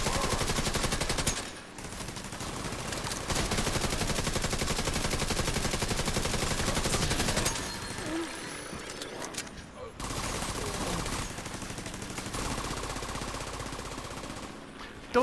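An automatic turret in a video game firing long rapid bursts of loud machine-gun fire, broken by two short pauses before the shooting resumes.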